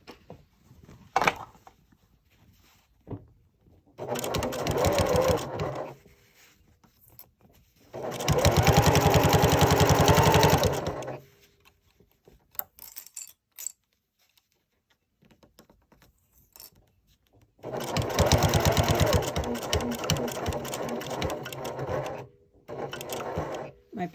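A sewing machine runs in three separate bursts while stitching upcycled jeans into a fanny pack, with quiet pauses between them filled by small handling clicks and rustles.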